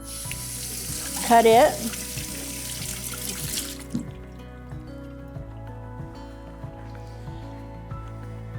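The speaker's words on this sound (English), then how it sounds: "we also have a cup of chopped red pepper, and I'm going to rinse that off" Running tap water streams over a cup of chopped red pepper being rinsed in a kitchen sink, a steady broadband wash for the first few seconds before it cuts off, leaving low room hum and a brief spoken phrase.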